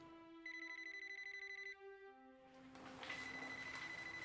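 A telephone rings in repeated trilling electronic bursts, faint and fairly distant, followed by other tonal sounds and a rising noisy wash, with no one talking.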